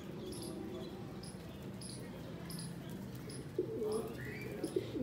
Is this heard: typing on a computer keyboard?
no